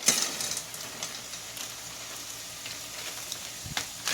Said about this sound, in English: Now to that, I'm going to add a 16-ounce bag of Lima beans.